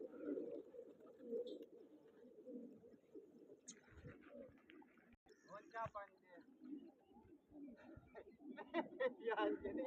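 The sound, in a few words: pigeon cooing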